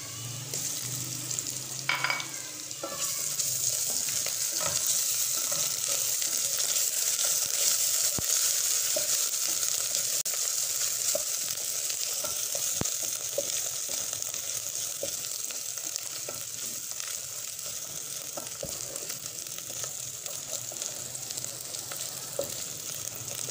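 Garlic and ginger paste sizzles steadily in hot desi ghee in a pan, with a bright continuous frying hiss and occasional scrapes and clicks from stirring, close and even throughout with no talking.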